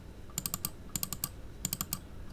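A computer mouse clicked rapidly at a desk during CAD software work gives quick sharp clicks in three short bursts of four or five, close to the mic.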